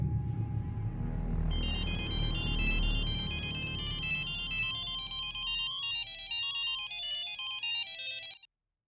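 A phone ringtone plays a repeating electronic melody, loud and close, over a low rumble that fades out before it stops abruptly.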